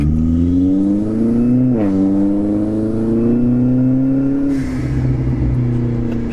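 A loud turbocharged car engine with a blow-off valve revs hard in a steady, rising roar, its pitch dipping and climbing, with a brief whooshing blow-off release near the end.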